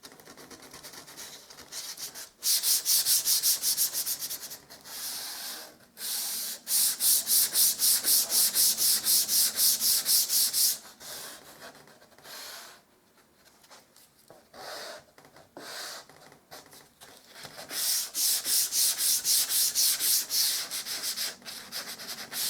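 Hand sanding along the edges of MDF board, with steady back-and-forth abrasive strokes in bursts and brief pauses between passes. The scratching is close and fairly loud, with no talking.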